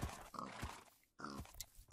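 Horses in a video game snort and grunt in short bursts, two close vocal sounds split by a brief silence, with no talking.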